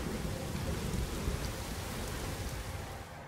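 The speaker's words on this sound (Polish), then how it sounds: "Teraz znowu się będę musiała uzerać z deszczem." Steady heavy rain pours in The Witcher 3: Wild Hunt, a dense continuous hiss with a low rumbling undertone suggesting a storm, with no talk over it.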